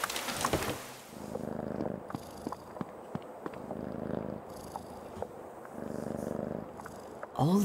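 A cat in the video game Creepy Tale 2 purrs steadily in rhythmic, rumbling pulses, close and continuous for several seconds, with a few soft clicks and taps around it.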